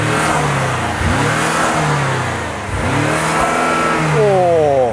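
A twin-turbo V8 car engine revs up and down three times, loud and near, deep pulses swelling to a snarling peak before falling back, finishing with a rising surge.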